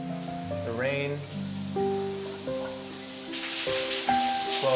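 Steady hiss of a shower head spraying water in rain mode, with tonal background music playing over it throughout.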